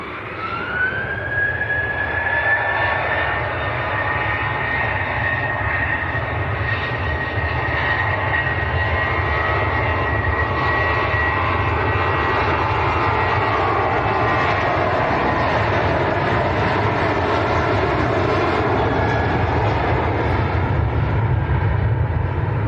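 A Jet2 airliner takes off from Manchester Airport, its engines building into a sustained roaring rush with a rising whine early on, loud and continuous for over twenty seconds with no voices.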